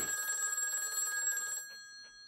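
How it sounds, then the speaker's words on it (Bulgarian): An old telephone bell rings in a creepy, run-down apartment under renovation, a steady continuous trill for about a second and a half that then cuts off, leaving faint room noise and a couple of soft knocks. "Телефона!"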